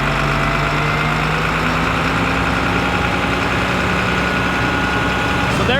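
A truck engine idles steadily at close range, a loud low rumble with a constant hum while its air system pumps up after the truck has sat unused for a long time.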